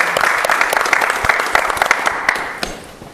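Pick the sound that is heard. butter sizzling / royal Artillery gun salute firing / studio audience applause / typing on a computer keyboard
studio audience applause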